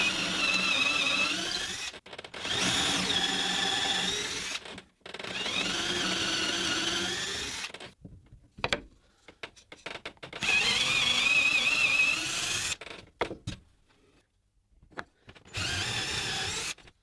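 A power drill bores dowel holes into oak, running loud and steady in several long bursts with short pauses and quieter gaps between them.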